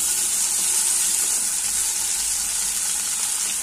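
Tomatoes stirred into ginger-garlic paste frying in a pan for chana masala, giving a loud, steady, close sizzle with a hissing, watery edge and no voices.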